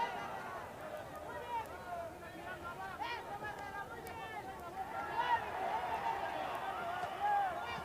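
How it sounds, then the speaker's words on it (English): Crowd at a Mexican super flyweight title boxing match, a steady roar of murmuring voices that swells gradually louder toward the end, with scattered shouts rising out of the hubbub. "You can hear the crowd starting to get a little bit more into this fight now as Santillana comes with those counter punch"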